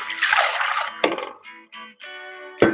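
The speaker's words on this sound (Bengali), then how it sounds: "সাবুদানার এই স্টার্চটা ভালো করে ধুয়ে নিতে হবে।" Large sago pearls are rinsed in water, with close splashing and sloshing followed by short trickles and drips, ending in another quick splash.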